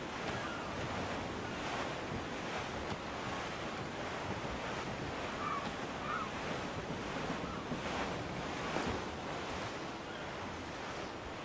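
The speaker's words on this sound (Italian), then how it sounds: "È un grande piacere sentire e annusare l'oceano." Ocean waves and wind in Assassin's Creed IV: Black Flag, heard at sea under raised sails: a steady, dense wash of surf and gusting wind that fills the whole stretch without letup, with no voices.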